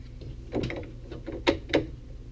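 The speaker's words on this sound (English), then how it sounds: "let's just clip this whole fan duct setup onto the back of the printer. It's going to go right here and just clip into place." A plastic fan duct being clipped onto the back of a Robo 3D R1+ 3D printer, a few soft clicks and snaps with light handling noise, fairly close and quiet.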